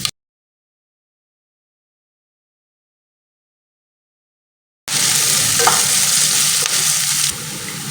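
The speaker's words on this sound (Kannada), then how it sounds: "ಈರುಳ್ಳಿ ಚೆನ್ನಾಗಿ ಫ್ರೈ ಆಗಿದೆ" Onions fry in oil in a kadai, a loud, dense, steady sizzle that bursts in after several seconds of silence and continues close up to the end.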